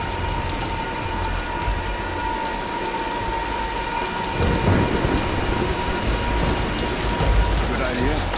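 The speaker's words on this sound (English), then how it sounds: "let's wait out the storm." A thunderstorm in the video game Tomb Raider: Definitive Edition brings steady rain with rolling rumbles of thunder building midway, while faint voices speak under the storm.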